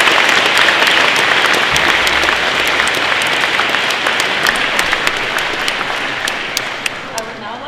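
An audience in a school gym at a youth forum breaks into loud, sustained applause that gradually thins and softens toward the end, with a few scattered late claps.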